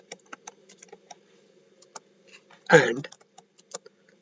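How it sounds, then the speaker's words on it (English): A search query is typed on a computer keyboard as a scatter of light, separate key clicks, with a short spoken word in the middle. "So here we will type create"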